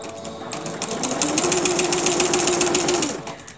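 Sewing machine stitching down a piece of quilting fabric, a steady close rapid mechanical whir with a fast regular needle rhythm running for a few seconds, alone.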